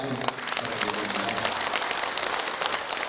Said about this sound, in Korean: 오늘 말씀해 주신 회장님께 다시 한번 큰 박수 부탁드리겠습니다